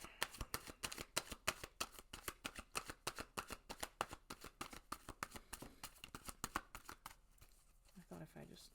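Tarot cards are shuffled by hand in a rapid, even run of crisp riffling taps, close and clear, before the shuffle fades into a brief pause with a voice at the end.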